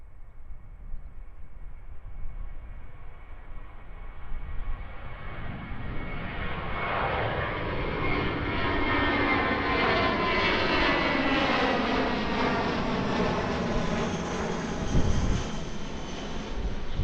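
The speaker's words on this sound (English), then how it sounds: "A320-200 off to Auckland." An Airbus A320-200 jet departs Christchurch Airport, its engine roar building steadily from a distant rumble to a loud, sustained wash with shifting tonal whine as it passes, no voices over it.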